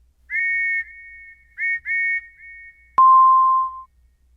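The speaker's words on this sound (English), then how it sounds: "Lily heard the sound of a train whistle outside her window" A train whistle sounds outside a bedroom window at night in a Thomas and the Magic Railroad story: two steady, clear whistle blasts, each with a short rising start, then a sharp click and a sustained lower tone fading out.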